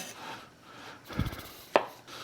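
Knife chopping mushrooms finely on a cutting board while preparing shrimp and clam linguine, a short burst of quick soft taps followed by a couple of louder isolated knocks, close and fairly quiet.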